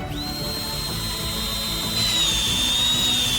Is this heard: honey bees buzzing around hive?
no